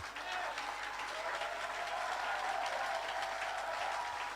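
A church congregation applauds in a dense, sustained wash of clapping that holds steady throughout, with a murmur of voices blended underneath.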